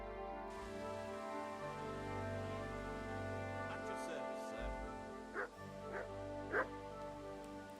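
A dog in the medieval game Kingdom Come Deliverance 2 gives a few short yips and whimpers near the end, over a steady bed of music and ambience.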